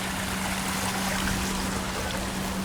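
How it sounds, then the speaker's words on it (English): Water runs down a garden water feature in San Diego's Balboa Park, a steady, even rush of flowing water with a faint constant hum beneath it and no voices. "Now they do have water coming down this one."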